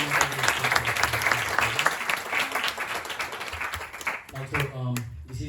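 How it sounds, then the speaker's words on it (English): An audience at a home programme class breaking into a round of applause, dense clapping that thins toward the end while a voice talks over it near the close. "Let's give a big round of applause."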